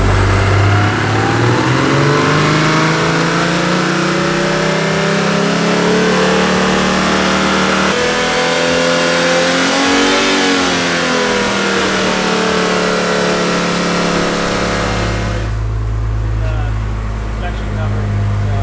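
Barra-engined Mustang revving repeatedly, engine pitch rising and falling in long sweeps, loud and close, then settling to a low idle near the end.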